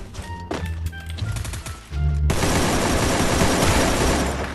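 Sustained automatic gunfire in the Garena Free Fire battle-royale game as an enemy is taken down: a loud, dense burst of rapid shots that swells into a continuous roaring fusillade lasting several seconds, with no talk over it.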